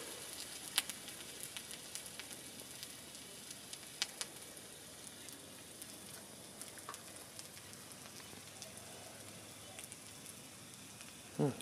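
A quiet, steady sizzle with scattered crackles and pops from fructose sugar on a hot tile, smoking heavily, continuous and close, with no talking over it.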